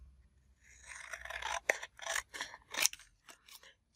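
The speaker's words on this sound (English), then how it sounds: "I'm just going to trim these up." Scissors snip and trim paper tags for a handmade Christmas journal, a run of close, crisp cuts and rustling scrapes in quick irregular succession, alone without talk.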